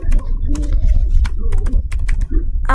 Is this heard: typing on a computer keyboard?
yes